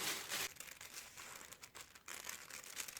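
Paper from a Simplicity 2506 toddler costume sewing pattern crinkles and rustles steadily as it is cut out with paper scissors, a close, continuous crisp sound with no voices.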